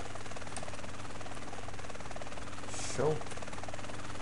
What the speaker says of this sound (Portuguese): Esse helicóptero eu posso pousar ele em qualquer lugar aqui, hein?